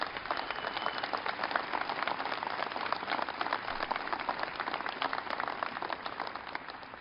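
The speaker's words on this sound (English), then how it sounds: "Give him a big round of applause." An audience at the White House breaks into sustained applause, a dense, even roar of many hands clapping at once, steady throughout without any speech over it.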